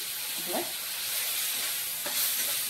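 Fish innards are stirred into a pan of fried onion masala, producing a steady close sizzle and hiss with a few soft scraping stirs and brief muffled thumps of the utensil.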